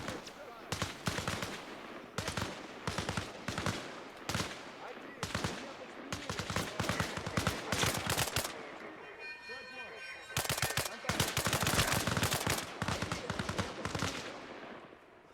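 Gunfire rattles through a shooter video game in steady bursts of rapid automatic shots, loud and close, broken by short pauses, with a faint voice now and then beneath the firing.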